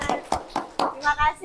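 A classroom of children claps hands together in four sharp, evenly spaced bursts, followed by a brief shout of young voices.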